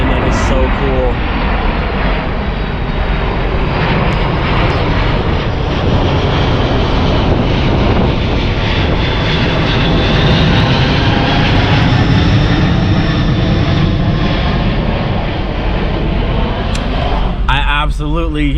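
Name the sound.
airplane flying overhead near an airfield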